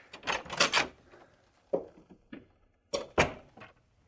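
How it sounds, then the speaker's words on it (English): A door to a bedroom opens in a radio drama, with a few sharp wooden knocks and clunks followed by quieter handling thumps and a second cluster of loud impacts, close and with no talk. "Here's the door to Joshua's room."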